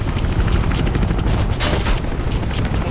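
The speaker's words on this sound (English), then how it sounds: "Stop shooting me, helicopter." In Mirror's Edge, a helicopter fires at the player: dense rapid gunfire and booming impacts over a rotor drone, loud and continuous with a sharp burst in the middle.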